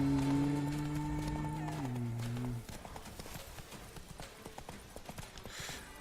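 Roach the horse running in The Witcher 3, brisk hoof clip-clops under game music that fades, leaving quick hoofbeats moving along.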